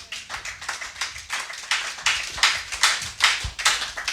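A church congregation claps in sustained, dense applause, many hands striking in a rapid, uneven patter that swells and stays loud throughout, with no voices standing out.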